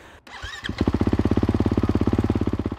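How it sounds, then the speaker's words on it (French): A 2019 Kawasaki KX450F dirt bike fires up on its electric starter: a brief whirring crank, then the engine catches into a loud, rapid, even single-cylinder idle that thumps steadily close by. "il suffit d'appuyer sur le bouton du côté droit pour démarrer sa KXF"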